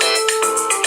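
A phone ringtone for an incoming call plays throughout, a steady electronic tone with repeating bright pulses, loud and close, with no talking over it.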